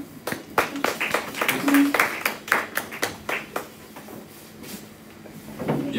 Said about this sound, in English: A round of applause, right?